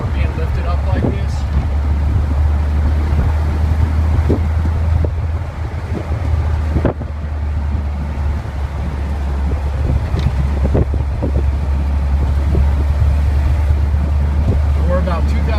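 A lifted 1991 Jeep Wrangler cruises at about 30 mph and 2,000 rpm, its engine a steady low drone under heavy wind buffeting that stays constant throughout, with occasional faint knocks.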